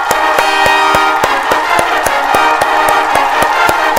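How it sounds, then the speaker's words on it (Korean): Church congregation clapping in rhythm during a healing service, regular loud beats about three per second over a full background of music and crowd. "하나님께 박수의 영광, 빵빠레를 울려라"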